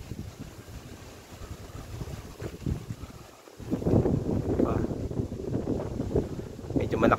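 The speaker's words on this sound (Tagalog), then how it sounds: "Medyo malakas ang hangin yan dito eh." Strong wind gusts buffet the microphone beside a river, a rough, blustery roar that swells louder in the second half, with a voice talking faintly in the background.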